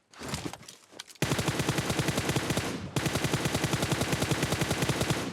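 Gunfire in a battle royale shooter game, a few scattered shots followed by long rapid automatic bursts with a brief break between them, loud and close.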